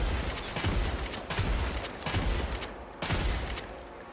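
Heavy gunfire from a large weapon called the defiler in the Eternals online shooter, fired in four loud, evenly spaced bursts that each ring out briefly before the next.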